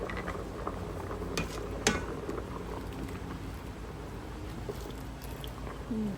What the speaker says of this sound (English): the beans have been cooking for over 20 minutes